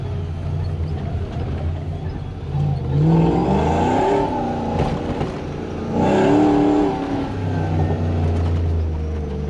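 A supercharged Toyota Hilux engine revs hard twice while the truck drives in two-wheel drive, each close, loud surge rising in pitch and then falling back to a steady drone.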